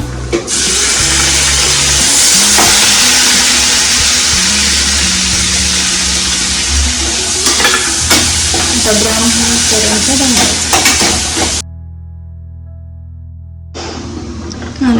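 Onion for chicken biryani frying in a pan until brown, a loud, dense, continuous sizzle close up with occasional stirring clatter, cutting off abruptly near the end before resuming briefly.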